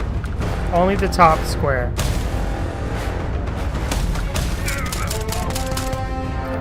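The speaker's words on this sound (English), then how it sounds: "You can shoot through the top rung here." Rapid bursts of gunfire in the video game Starfield, loud and close, cracking in quick volleys alongside game effects while someone talks over the action.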